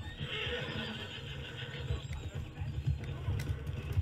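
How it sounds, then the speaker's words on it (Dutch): A horse whinnies in Red Dead Redemption 2 amid a busy, rumbling game soundscape, with low thudding and a muffled voice underneath. "Daar is een paard van de mens."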